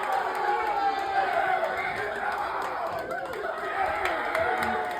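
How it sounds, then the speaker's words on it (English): Football teammates cheer and chant after an award ceremony, a dense, steady crowd roar with overlapping voices and scattered claps, loud and sustained throughout. "Following the ceremony, his teammates greeted him with chants and cheering."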